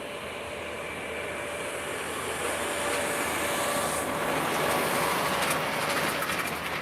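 A Royal Air Maroc airliner moves forward for takeoff at Lisbon Airport, giving a steady, loud, continuous engine roar with a broad hiss that swells slightly toward the end.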